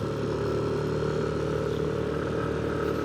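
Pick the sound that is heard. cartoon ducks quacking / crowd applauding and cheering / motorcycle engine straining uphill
motorcycle engine straining uphill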